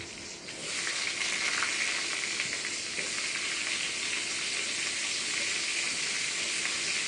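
Potatoes dropped into hot oil with green chillies for a water lily stem and prawn dish burst into a loud, steady sizzle that starts abruptly and holds evenly throughout, with no talking.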